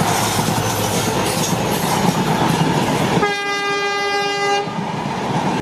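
A train rumbles past with a loud, steady clatter, then its horn sounds a long sustained blast near the end, with no voices over it.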